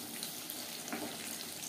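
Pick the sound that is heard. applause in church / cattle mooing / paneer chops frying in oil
paneer chops frying in oil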